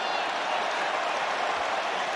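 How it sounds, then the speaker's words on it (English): A stadium crowd at an England v Tonga rugby match applauds a try-saving tackle, a steady, broad wash of clapping and crowd noise with a commentator's voice over it. "And the crowd are applauding."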